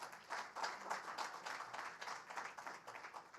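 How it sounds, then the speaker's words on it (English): A crowd applauds steadily, many hands clapping in a dense, even patter from a moderate distance, with no voices on top. "Can I ask you to join me in the applause?"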